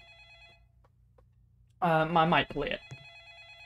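A telephone rings in a Roblox horror game, a steady electronic trill running before and after a burst of nearby speech that briefly drowns it out.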